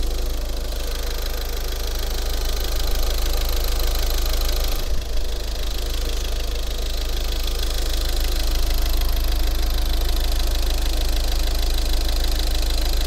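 A Ford Focus engine idles close up in a steady, even mechanical chatter with a faint ticking knock, continuous throughout and without speech.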